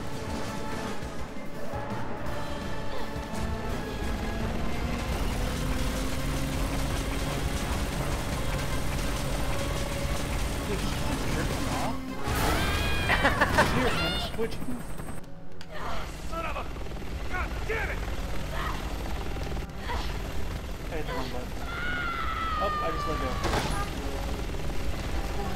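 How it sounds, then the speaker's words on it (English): A helicopter crash in the video game Resident Evil 6: a sustained roaring engine and grinding mechanical din broken by loud smashing impacts and debris noise, with voices heard faintly through the mix. "Survived the crash from a helicopter, a bigger helicopter, and you can't survive that."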